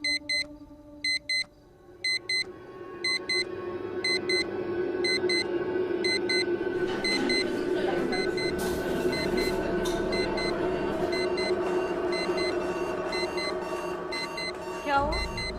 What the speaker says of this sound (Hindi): ये अलार्म बंद ही नहीं हो रहा है